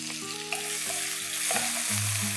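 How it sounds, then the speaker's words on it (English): Crushed green chilies sizzle in hot oil in a pan while cooking radish sabzi, a steady close frying hiss with faint stirring scrapes throughout and no talking. "Let's begin with green chilies that are crushed."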